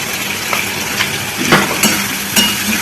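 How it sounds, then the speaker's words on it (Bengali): Gobindobhog rice frying with potatoes and onions in a pan, a close, bright sizzle broken by several scraping stirs and light clinks of the spoon against the metal. "এটা ভালো করে দিয়ে নাড়াচাড়া করতে হবে, একটু ভাজা ভাজা হোক চালটা"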